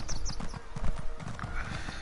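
Horse hooves clip-clop in a quick, even rhythm in a video game, with a short whinny partway through; the sound is moderately loud and steady and has no talking over it.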